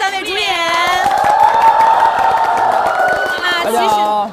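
A loud, sustained crowd cheer with whoops and shouting voices greets the three lead actors of Love Between Fairy and Devil at a live promotional event.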